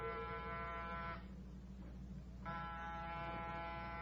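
A steady electric door buzzer drones continuously, briefly shifting tone in the middle before resuming its flat, harsh hum.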